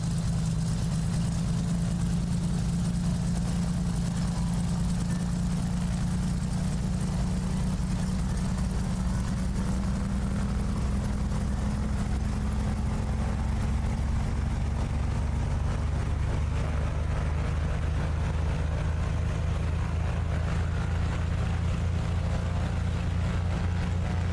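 A simulated light aircraft piston engine is throttled up to 1800 RPM, holding a steady loud drone with a low hum that rises slightly in pitch, continuous throughout with no speech.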